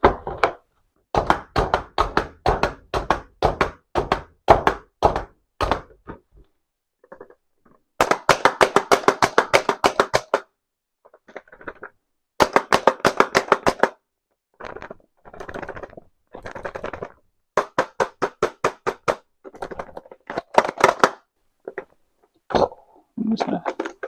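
A knife chops food on a cutting board in a home kitchen, with rapid runs of sharp, close knocks broken by short pauses.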